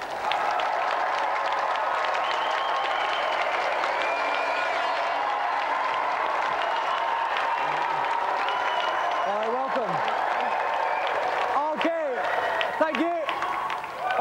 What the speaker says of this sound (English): give a round of applause for our volunteer.